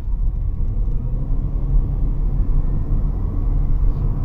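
A 2024 Haval Jolion Pro Ultra Lux HEV hybrid SUV with 140 kW accelerates, giving a steady, fairly loud low rumble that is heard continuously from inside the cabin with no talking.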